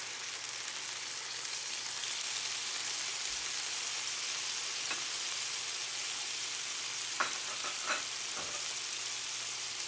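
Birria broth sizzling in a hot pan makes a steady frying hiss with scattered sharp pops and spatters, moderately close and without talk.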